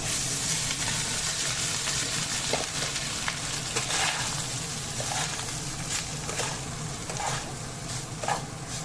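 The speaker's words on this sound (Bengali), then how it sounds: "এখন আমি এই যে ভাতটা যে বানিয়ে রেখেছি এটা দিয়ে দেব" Cooked rice frying in a pan with cinnamon, bay leaf, cloves and cardamom tempered in oil, a steady close sizzle and crackle with occasional stirring scrapes throughout.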